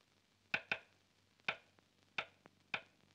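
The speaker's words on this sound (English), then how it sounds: "I had a special way of knocking." Five sharp wooden knocks on a door in an uneven pattern, a quick double rap, a pause, then three spaced single taps, close by in a quiet room.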